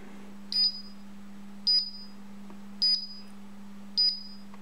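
A Paradox EVO192 alarm panel gives four short, sharp beeps spaced about a second apart over a low steady hum, then falls quiet as it is disarmed.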